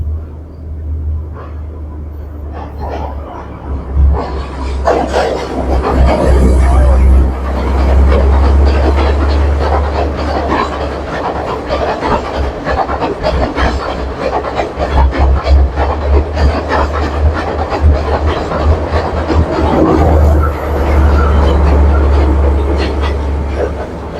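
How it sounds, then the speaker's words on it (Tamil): A train rolls past close by in Sri Lanka, a heavy continuous rumble with rhythmic clattering of wheels over rail joints, loud throughout with no talking. "ட்ரெயின் ஒன்று வந்து கொண்டிருக்குது அதான் பார்த்து கொண்டிருக்கிறோம்"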